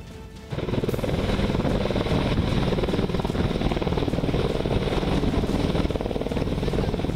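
An Indian Air Force Apache helicopter flies close by, its loud, steady rotor chop and engine roar rising suddenly after a brief lull and continuing unbroken throughout.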